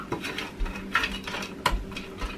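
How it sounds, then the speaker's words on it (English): A spoon stirs frozen diced onions, chopped garlic and celery in a slow cooker, giving close clinks and scrapes against the pot in an uneven rhythm, with no talk. "Give it a stir."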